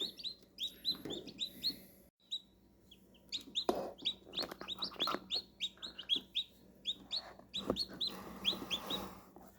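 Chickens cluck and chirp steadily at a farm where eggs are being incubated and hatched, a busy flock of overlapping short calls at moderate distance with soft background noise.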